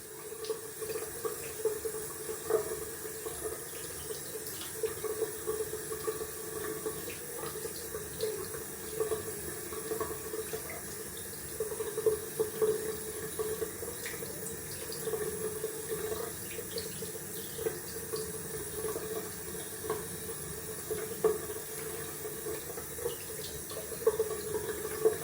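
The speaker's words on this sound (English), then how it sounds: "just rinse off with some cold water." Cold water running from a bathroom tap into a sink for rinsing after a wet shave, a steady close splashing stream with small fluctuations, continuing without pause and with no speech.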